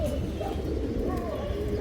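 Pigeons at a pigeon farm coo in a dense, close chorus, with a steady low murmur filling the short stretch and faint background activity.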